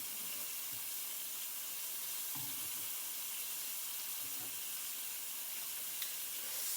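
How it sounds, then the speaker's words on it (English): Liver with sliced onions frying in a pan, giving a continuous even hiss and sizzle with a few faint stirring bumps, moderately quiet and with no one speaking. "I'll go ahead and add our sliced onions to these"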